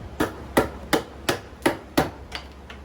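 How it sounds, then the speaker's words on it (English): A chisel chops out a half lap notch in wood, with about seven sharp, evenly spaced knocks roughly every third of a second, close and clear with nothing else beneath. "I'm using this chisel to chisel out the notch for the half lap"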